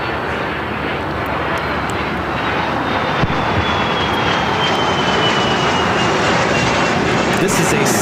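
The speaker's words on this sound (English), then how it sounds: "This is a Cessna 700 citation longitude taking off to Truckee, NetJets 810." Cessna 700 Citation Longitude business jet taking off at LAX, a steady broadband jet roar holding loud throughout, with a thin whine sliding slowly downward, as people talk faintly alongside.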